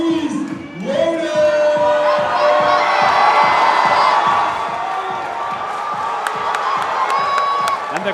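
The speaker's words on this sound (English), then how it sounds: "And the crowd goes wild." Crowd at a powerlifting team championship meet cheering and shouting loudly after a 400-kilo lift, a sustained roar over rhythmic clapping, with a voice talking over it.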